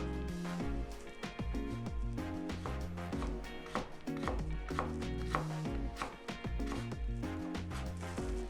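A knife cuts green mango into julienne matchsticks on a board with rapid, regular chopping strokes that continue throughout. Music plays prominently over the cutting.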